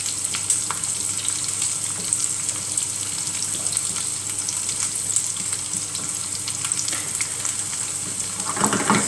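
Salmon sizzles and crackles steadily in a hot pan, a continuous close frying hiss with small pops, no talking.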